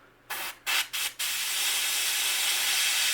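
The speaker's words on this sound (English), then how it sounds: "I'm going to spray more on the stencil and let some of that overspray get on the bait" Spray paint hissing onto a stencil over a crankbait fishing lure: three short close bursts, then one long continuous spray that holds steady to the end.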